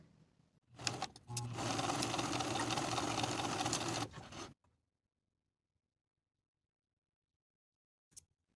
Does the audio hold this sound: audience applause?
no